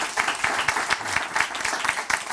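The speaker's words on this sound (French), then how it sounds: "Vous pouvez vous applaudir d'ailleurs." A studio audience at a French broadcast applauds itself in a steady, moderately distant round of clapping with a few louder claps standing out.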